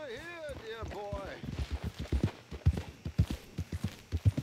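Horse hooves clip-clop in Red Dead Redemption 2, a quick, fairly loud run of hoofbeats that follows a brief whinny-like call at the start, with speech over the top.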